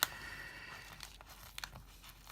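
Dried masking fluid peeled off a painting, a short series of crisp tearing and crinkling sounds, close and quiet, with a few brief louder snaps near the end.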